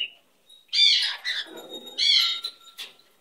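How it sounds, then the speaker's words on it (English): A pet baby bird gives two bursts of loud, close squawking chirps separated by a brief pause, alone in a quiet room. "That's my baby bird."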